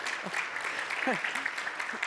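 A crowd at a tourism outlook forum keynote applauds in a steady patter of clapping, moderately distant, while a speaker's voice cuts in over it.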